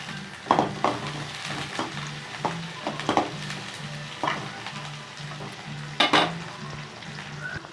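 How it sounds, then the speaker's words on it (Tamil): Onions and curry leaves frying in an oil-filled pan for chicken gravy sizzle steadily, while a spoon scrapes and clatters against the pan in irregular strokes close up, with no talking. "வெங்காயம் கொஞ்சம் நல்லா வதங்கட்டும்"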